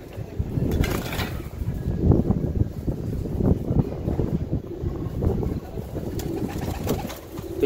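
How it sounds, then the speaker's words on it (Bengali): Tournament racing pigeons of a long-distance flying line cooing nearby, soft low repeated coos over light wind and background noise. "তো এটা একটা ছাড়াছাড়ি লাইনের কবুতর।"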